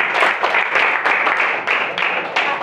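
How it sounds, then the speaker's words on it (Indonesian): Short burst of classroom applause for a student, a group clapping steadily and fairly close for a few seconds, with no talk over it. "Berikan tepuk tangan untuk Cantika."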